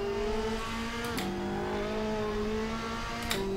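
A video-game race car on the wrong tyres in the wet spins its wheels, its engine holding a loud, high revving drone that dips and jumps in pitch as the tyres break loose.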